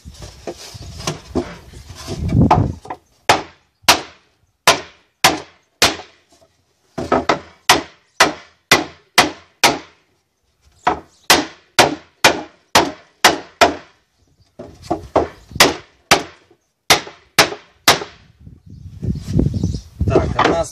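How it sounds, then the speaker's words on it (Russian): Parts of a universal APIX nucleus beehive struck with a wooden mallet: bursts of sharp, loud wooden knocks in quick rhythmic runs of several taps, separated by pauses, with some speech in between. "Берем помощника, кияночку нашу,"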